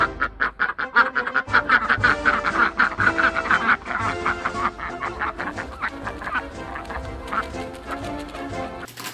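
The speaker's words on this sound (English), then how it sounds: "Welcome home, duckies. There they are. All the little ducklings." Young farm ducklings moved into a bigger habitat quack and peep loudly and continuously, a busy close chorus of overlapping calls.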